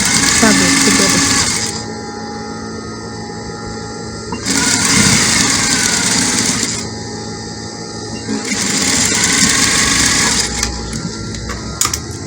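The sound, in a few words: sewing machine stitching lining to main fabric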